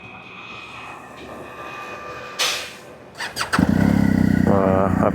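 A BMW motorcycle that had trouble starting cranks with a brief whine and stutter, then catches and settles into a loud, steady idle close by, with a rider talking early on.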